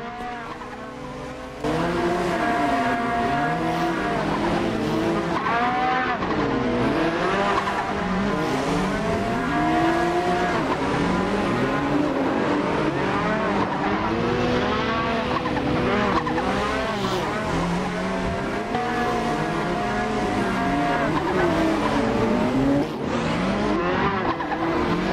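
A BMW drifting in the Assetto Corsa racing game, steady loud engine revving with continuous wavering tire squeal throughout, shifting pitch as the car slides, with no talking.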